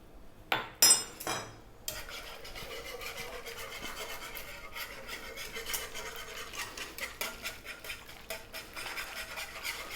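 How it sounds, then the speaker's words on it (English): A wire whisk working lumps out of a thickening stovetop sauce for a whole chicken and potatoes dish, giving a steady, close scraping and rubbing against the pan that runs continuously after a few sharp clinks at the start. "with the whisk, you need to just get any little lumps out of there"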